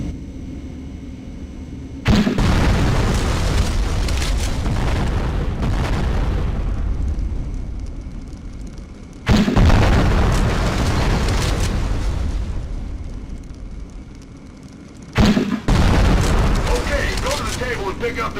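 M203 grenade launcher rounds exploding in the combat game Conflict: Desert Storm II, three loud booming blasts with long rumbling decays spaced several seconds apart, the last blast short and sharp.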